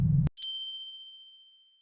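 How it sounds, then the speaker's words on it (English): A single bright bell ding from a scooter rings out after a brief low rumble, then its clear tone lingers and slowly fades to silence. "drifted off for a nap in the workshop, and woke up as she heard the bell ring on Hugo's scooter."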